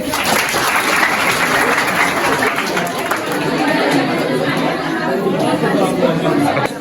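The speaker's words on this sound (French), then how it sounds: "Applaudissez." A school audience at a high school quiz event applauds a student representing class 3e A, sustained loud clapping mixed with crowd chatter and cheering, continuous and fairly close for several seconds before trailing off.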